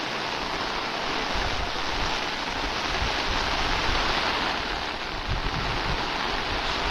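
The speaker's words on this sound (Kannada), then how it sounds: "ಮಳೆ ಬರ್ತಾ ಇದೆ ನೋಡಿ." Rain falling by a river near a bridge at Nagara, a steady dense hiss of water lasting throughout at moderate loudness, with no talking.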